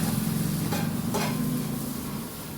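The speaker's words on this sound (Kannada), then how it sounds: "ಸ್ವಲ್ಪ ಚೆನ್ನಾಗಿ ಎಣ್ಣೆ ಹಾಕಿ ಫ್ರೈ ಮಾಡ್ಕೊಳ್ಳೋಣ" Onion and tomato fry in oil in a pan for sambar, a steady loud sizzle with a low hum underneath and a couple of soft stirring scrapes, no voices.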